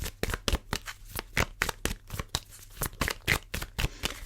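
Oracle cards are shuffled by hand in a quick run of crisp riffling and slapping strokes, close and fairly quiet, with no voices.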